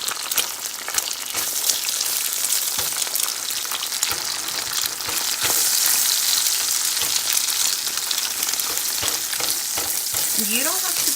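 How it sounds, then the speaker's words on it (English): Eggs frying in bacon fat over medium heat, a loud dense crackling sizzle that runs without a break, close up. "we're gonna use the oil from the bacon to cook the eggs"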